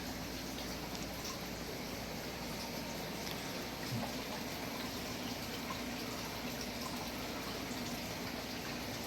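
Water flows steadily through an indoor pond garden creek, a constant close rushing trickle without pause.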